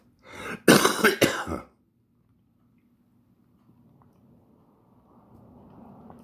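A man coughs and clears his throat close to the mic in a short, loud, rough burst of three or four hacks, followed by near silence with faint low background noise.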